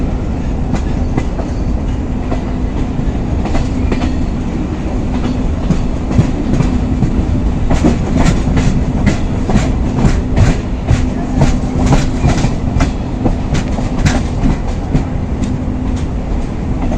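The 22476 CBE HSR Express train rolls along the rails approaching Ratnagiri station, a loud continuous rumble with rhythmic clickety-clack wheel beats that grow denser midway, heard from on board with no talking.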